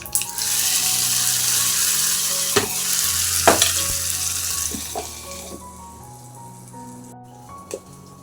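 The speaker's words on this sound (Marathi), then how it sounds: "ही छान फोडणी आपण ह्याच्यात टाकून घेऊया" Hot tempering oil poured onto chutney makes a loud, hissing sizzle right away, with a few sharp clinks of a utensil, before it dies down to a faint simmer over soft background music.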